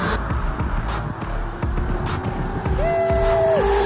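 E-Box 2 electric pit bike at full throttle, loud rushing wind and road noise with a rising electric motor whine near the end, steady and close, no voices.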